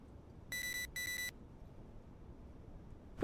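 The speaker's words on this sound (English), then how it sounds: "That's the intruder alert alarm." Two short bursts of electronic beeping from an intruder alert alarm on a security monitor in the video game Shrift 2, each burst a rapid, bright pulsing tone, sounding alone over a quiet background.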